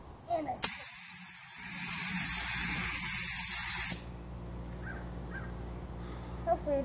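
An aerosol can sprays a coat of pearl paint onto a child's art project in one loud, continuous hiss lasting about three seconds, with faint voices and small sounds before and after.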